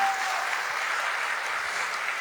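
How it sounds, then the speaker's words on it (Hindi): Sustained applause from an audience at a devotional gathering in Jaipur, welcoming first-time attendees; a steady, dense wash of clapping at moderate distance with no pauses. "अगर ताली बजानी है तो इन लोगों के लिए बजाएं जो आज पहली बार आए हैं।"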